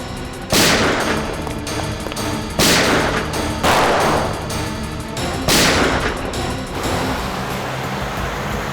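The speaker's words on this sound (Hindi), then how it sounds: "मुझे कवर फायर दो" Loud, booming gunfire erupts in four heavy blasts a second or two apart, each trailing into a long rumbling roar with no voices.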